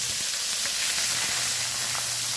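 Pieces of pork frying in hot palm oil in a pan, a constant close sizzle with small crackles throughout, and nobody speaking.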